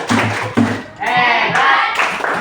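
A class of students claps hands in short patterned bursts in a school room, close and brisk, alternating with voices chanting along.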